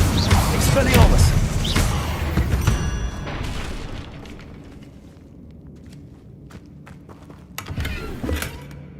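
A deep booming blast from an Expelliarmus spell in the Hogwarts Legacy video game, heavy low impact at the start, then quieter clatter and scattered hits before another thump near the end.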